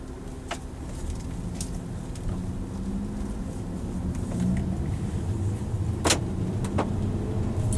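A 2008 Honda Accord Coupe EX-L V6 on the move, a soft steady cabin rumble of engine and road noise with a few faint clicks and knocks.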